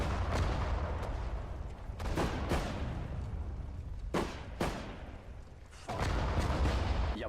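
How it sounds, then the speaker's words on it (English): Artillery fire in the Sudden Strike 4 video game, at the Battle of Sedan: a steady rumbling barrage with several sharp booms, around 2, 2.5, 4.2, 4.6 and 6 seconds, standing out over continuous low battle noise, with no talk. "There's artillery over here, and I'm kind of getting sick of it."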